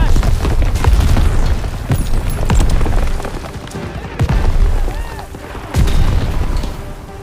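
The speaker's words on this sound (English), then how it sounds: "Daniels, pick up a scoped rifle and hit those packs" Repeated heavy booms and gunfire as ammo caches blow up under scoped rifle fire in Call of Duty WWII, several loud explosive bursts with rumbling tails, mixed with battle noise and voices.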